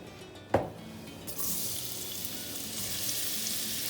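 Onion frying in olive oil in a pan, starting with a sharp clatter, then a quiet steady sizzle that swells a little and holds close and even.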